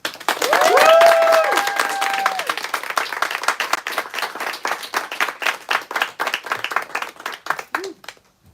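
A live audience breaks into sustained applause to welcome a panel of writers, loud and dense at first, then thinning into scattered claps that fade out over several seconds.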